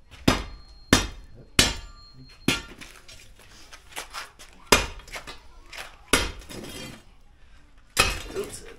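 A hammer strikes a 30-foot floor drain in a series of sharp metallic blows, close and loud with ringing decay, irregularly spaced with pauses between hits.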